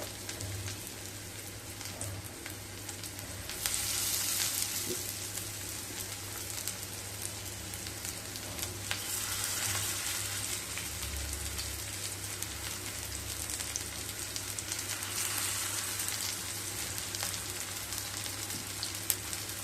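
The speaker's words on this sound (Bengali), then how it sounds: "তেলটা গরম হয়ে গেছে এরপর পকোড়াগুলো ভেজে নেব" Vegetable prawn pakoras deep-frying in hot oil over medium-low heat, a dense, even crackling sizzle that carries on steadily without a break, close by and fairly quiet, with no voices.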